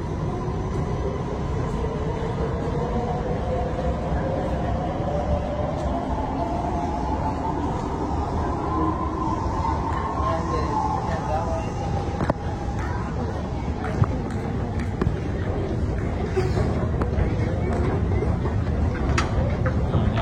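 Steady low rumble of a light rail train in a station, with a rising whine of motors and a crowd murmuring throughout.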